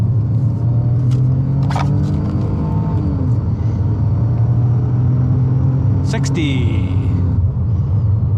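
A Ford Escape with a three-cylinder engine accelerates hard onto a highway, a steady low engine drone and road rumble filling the cabin throughout, with brief clicks and a short whoosh near the end.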